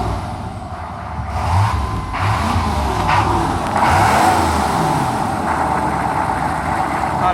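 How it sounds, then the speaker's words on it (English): A 6.5 turbo diesel engine idles roughly and unevenly with a fault that may need a new injection pump, its loud close rumble continuous and wavering without speech. "But she was idling all over the place. Erratic idle."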